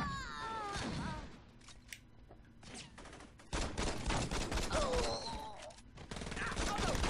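Gunfire in the video game Saints Row, with pistol shots popping amid game music and effects, bursts of shooting growing denser and louder in the second half, with a voice speaking over it.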